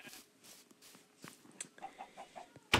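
Minecraft chickens give soft, repeated clucks in a steady little series in the second half, over faint footstep-like taps, ending on a sudden loud burst.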